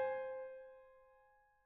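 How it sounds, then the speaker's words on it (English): A minor sixth interval, two notes eight half steps apart, struck together on a piano-like instrument and left to ring, decaying smoothly and alone. "The minor sixth is made up of 8 half steps,"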